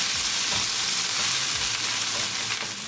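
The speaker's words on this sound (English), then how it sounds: "Cooking our tadka for 3 minutes." Tadka of onion sizzling and frying steadily in a pan, a dense continuous crackle with a few soft stirring scrapes, close and fairly loud with no talking.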